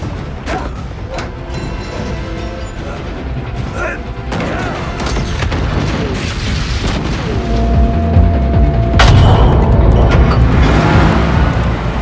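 Gunfire and explosions in an action-film shootout: dense, loud booms, crashes and mechanical clatter building steadily, with a voice speaking over part of the din.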